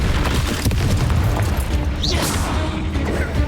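A blasting-spell explosion in the video game Hogwarts Legacy, a loud booming crash with rumbling low end that sustains through the moment, with a brief whooshing rise partway through and no speech.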